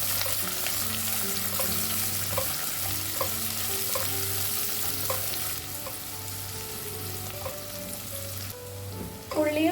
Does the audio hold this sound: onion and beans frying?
yes